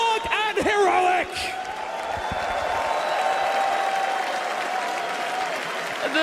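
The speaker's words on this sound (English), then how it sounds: "The crowd is just going crazy for Heroic here." A large arena crowd at an esports main event for a Dota 2 International tournament cheers and applauds loudly and continuously, with scattered whoops and shouts riding over a dense, steady wash of clapping.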